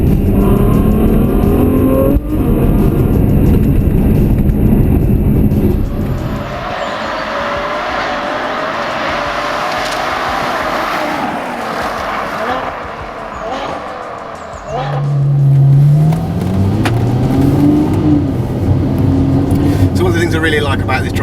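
A 740 brake horsepower Ferrari F12, driven in wet mode, pulls hard from inside the cabin with a loud, continuous engine roar that swells sharply partway through, while someone talks over it.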